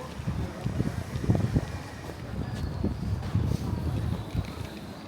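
Wind gusts buffet a town market in West Bromwich at Christmas, with low rumbling blasts and flapping canopies close to the microphone, plus faint background noise and no clear talk.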